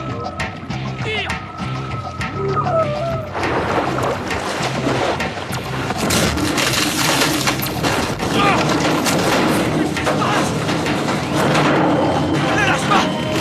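Gunfire in a dramatic film scene, heavy layered bursts and cracks amid loud rushing action sound and music, with voices shouting underneath.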